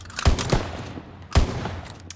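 GPMG machine gun fire in the video game Call of Duty WW2, two loud separate booming shots about a second apart, each with a long decaying tail.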